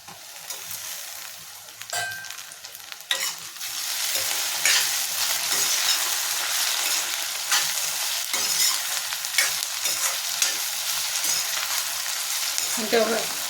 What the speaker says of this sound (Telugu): ఉల్లిపాయలు ఇంకా వేగాలి.